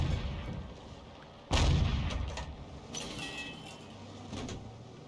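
Artillery in a tank video game, a 105 leFH18B2 howitzer, firing once as a sudden loud boom, followed by fainter distant rumbles and blasts over steady background noise.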